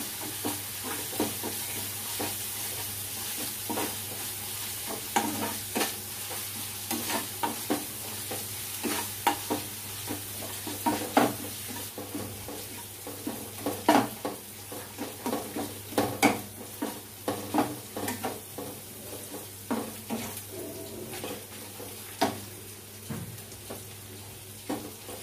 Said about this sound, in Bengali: মশলাটা আমার ভালোভাবে ভেজে নিয়েছি